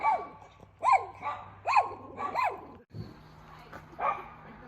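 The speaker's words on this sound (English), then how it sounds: "Here comes a doggo." A dog barks at a hiking hostel along the Appalachian Trail, giving about five fairly close, moderately loud barks in an uneven rhythm with short pauses between them.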